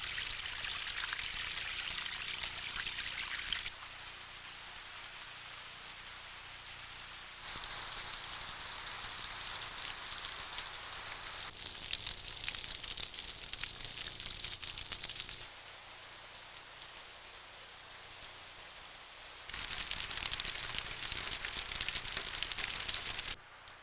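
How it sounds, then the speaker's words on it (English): Light rain dripping from overhanging canyon rocks makes a soft, continuous patter and trickle, swelling and fading in sections with no voices. "On a hot day, the light rain falling from the rock is cool and refreshing."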